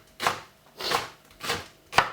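Four separate knife strokes cut through an onion on a board, each a crisp, close chop with a short crunch, spaced about half a second to three quarters of a second apart, with no talk.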